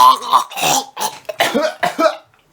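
A run of harsh, sputtering coughs from someone eating fried chicken, close and loud, about six bursts in quick succession that fade out at the end.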